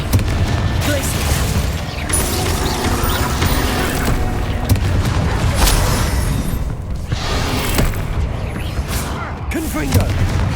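Blasting Confringo and Bombarda spells in Hogwarts Legacy, with loud, dense booms and mechanical crashes running continuously as a voice calls out spell names throughout.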